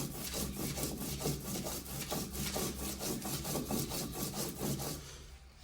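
Cooked drumstick leaves and fish ground into paste, a rapid rhythmic scraping and rubbing of stone on stone, steady and close, stopping just before the end.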